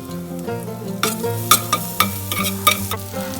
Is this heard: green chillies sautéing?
yes